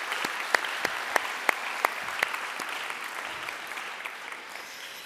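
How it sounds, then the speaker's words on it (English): A welcome-event audience of new university students applauding, a steady wash of crowd clapping with a few louder individual claps standing out near the start before it evens out. "I want to give you a round of applause"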